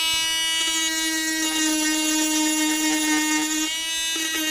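A Dremel rotary tool sanding a wood edge gives a steady, loud, high-pitched motor whine with slight shifts in pitch as it bites into the wood.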